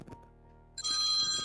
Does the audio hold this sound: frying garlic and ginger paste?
no